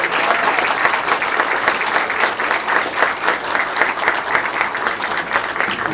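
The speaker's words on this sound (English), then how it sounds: "Let's give them another round of applause." An audience claps steadily and loudly after a school choir performance at a school board meeting, a dense, even round of applause that carries on the whole time with no break.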